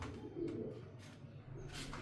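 Pigeons cooing softly, low rolling coos repeating over a quiet outdoor background, no one speaking.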